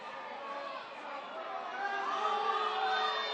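A football stadium crowd at a USL match between Seattle Sounders FC 2 and Real Monarchs SLC murmurs and jeers in displeasure, a broad distant roar of many voices that swells slightly toward the end.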